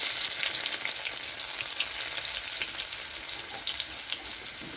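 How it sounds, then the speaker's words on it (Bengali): Garlic and nigella seeds sizzle in hot mustard oil in a wok, a close, even crackling hiss that stays steady and slowly eases throughout. "রসুনটা একটু ভাজা হয়ে গেছে"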